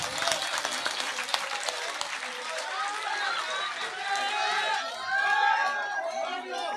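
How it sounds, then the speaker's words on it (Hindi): A political election rally crowd claps in sustained applause, with cheering voices and chatter mixed in throughout and swelling louder near the end. "भाई ये तालियां तो बजा लो"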